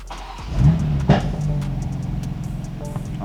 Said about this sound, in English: Then you can start the car.